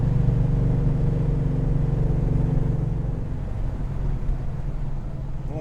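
A Lancia Flavia's flat-four engine pulls hard in fourth gear around 3,000 rpm, a loud, close, steady drone that eases slightly in the final seconds, with no voices.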